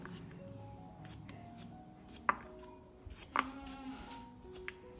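Ginger chopped with a knife on a board gives a few soft, scattered cuts, faint and spaced out against a quiet background.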